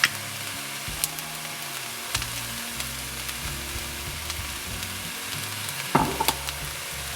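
Crab fried rice seasoned with salt, Maggi sauce and Thai fish sauce sizzles steadily in a hot pan. Occasional spatula scrapes and taps cut through a low hum.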